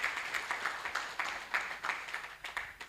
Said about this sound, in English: Let's clap for our political leaders.